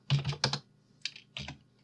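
Computer keyboard keys are pressed in a few quick, close taps: a short cluster of clicks, a pause, then two more single keystrokes, all fairly quiet.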